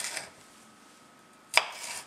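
A knife slices through a bell pepper with one crisp, close cut against a board after a short quiet pause, preceded by a faint brushing rustle.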